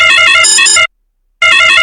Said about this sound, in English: that is how loud alarm notification any seller will get whenever there is a new booking of grocery